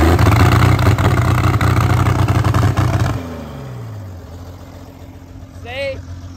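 An Allis Chalmers D17 diesel tractor idles loud and close with a steady, chugging rumble for about three seconds, then winds down and falls quiet.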